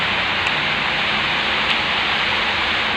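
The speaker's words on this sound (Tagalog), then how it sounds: "Umuulan guys." Steady rain hisses evenly throughout, a dense continuous patter with no voices.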